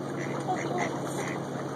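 A duck quacks a few times amid steady outdoor background noise, with faint voices nearby.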